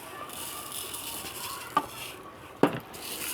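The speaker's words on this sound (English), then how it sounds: "now I'm going to mix the rice with the onions" Rice is stirred with onions in a pot over soft frying sizzle, and two sharp spoon scrapes and knocks stand out against the quiet cooking sound.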